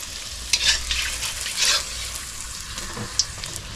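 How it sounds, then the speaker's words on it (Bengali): Mughlai paratha frying in oil in a pan, a steady soft sizzle with a few brief louder crackles and stirring scrapes, close and alone with no talk. "আর এটা এখনো ভাজছে"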